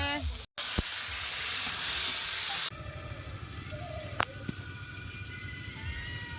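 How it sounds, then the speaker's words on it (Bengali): Eggplant slices frying in oil, a bright hissing sizzle that cuts off abruptly partway through, then fainter frying continues with a sharp clink and some background voices. "এই যে বেগুন ভাজা কিন্তু হচ্ছে"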